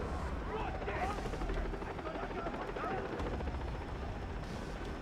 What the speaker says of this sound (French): Oh, ils ont des hélicoptères carrément.